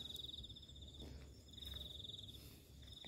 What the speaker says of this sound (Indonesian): Suara jangkrik krik krik krik krik